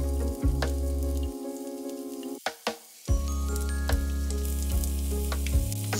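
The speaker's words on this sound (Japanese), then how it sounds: "きれいに洗った水菜を炒めます。" Washed mizuna greens stir-frying in a pan, a steady loud close sizzle broken briefly once as the greens are tossed, then hissing on with soft stirring scrapes and no talk.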